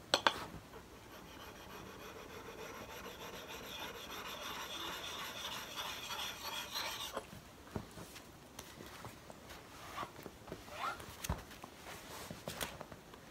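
Steel tool edge being honed and polished on a stone in a timber framing shop, a steady continuous rubbing stroke for about seven seconds, then scattered quieter scrapes and taps.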